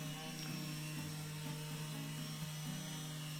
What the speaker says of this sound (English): Back corners of the router tabletop needed to be cut out to allow the table saw fence to slide